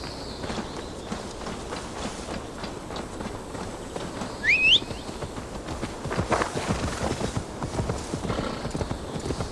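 Horse hooves clip-clopping in Assassin's Creed Valhalla, a rapid, steady run of hoof beats over ground that continues throughout, with a short whinny-like call near the middle and no speech.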